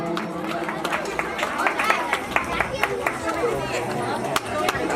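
Scattered clapping from an audience honouring prize winners at a ceremony, irregular hand claps rising over a steady murmur of crowd chatter and voices throughout.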